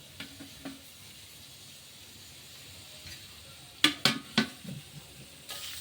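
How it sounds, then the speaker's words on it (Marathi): Onion frying in oil in a pan gives a low, steady sizzle, with a quick cluster of utensil knocks and scrapes against the pan partway through, close and with no talking. "हा कांदा लालसर असा भाजून घ्यायचा छान"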